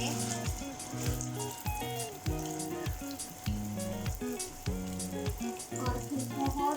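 Seekh kabab sticks fry in ghee in a pan on a stove, a soft continuous sizzle with gentle crackles under repeated low rhythmic bumps.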